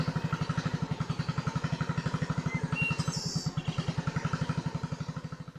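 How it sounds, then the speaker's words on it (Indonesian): Small outboard-powered sampan motor, called a ces, on a river in the Kalimantan forest, chugging in a steady fast rhythmic putter that stays loud and close throughout, with a brief higher whine midway. "Sampan atau kapal kecil kita pakai ini dinamakan ces"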